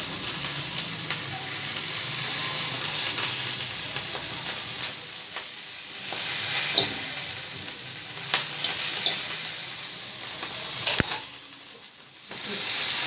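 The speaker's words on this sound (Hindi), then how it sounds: "सारी चीज़ें मैं इस तरह से सेक लूँगी तवे पे और फिर इनको मैं कढ़ाई में डाल दूँगी" Pieces of tikka boti meat sear on a hot tawa griddle, giving a steady close sizzle and hiss with occasional stirring scrapes and bursts of louder frying. Nobody speaks.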